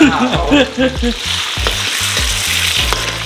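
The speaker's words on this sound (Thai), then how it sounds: "ผมจะผัดแบบว่าง่ายๆเลย" Food stir-fried in a pan sizzles loudly and steadily, with rhythmic scraping and tossing of a spatula against the pan throughout, close up and with no voices.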